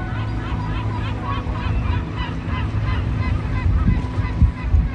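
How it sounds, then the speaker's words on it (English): Goose-like honking calls repeat over a steady low hum with some wind, heard in the morning from a boat surrounded by cliffs, the birds sounding moderately distant and calling continuously. "Listening to the birds."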